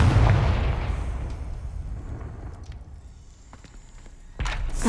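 A Confringo fire spell explodes in Hogwarts Legacy, a loud close blast that rumbles and fades over several seconds. A second sharp burst follows near the end.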